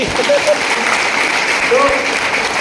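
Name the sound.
audience clapping for Dr. Deva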